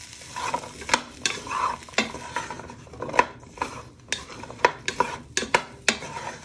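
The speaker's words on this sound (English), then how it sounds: "First step uh, is starting your onions and courgette. You want to give them a little toss." Onions and courgette sizzle steadily in a hot pan while a utensil scrapes and tosses them, producing repeated clacks and stirring scrapes over the frying hiss.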